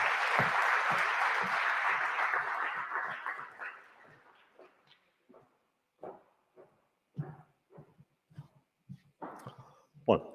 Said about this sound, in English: I would like to applaud to you.